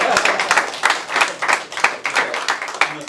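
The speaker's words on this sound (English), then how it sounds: "Let's give a round of applause." An audience at a car sales event gives a round of applause, clapping close and fairly loud in an even, pulsing rhythm throughout.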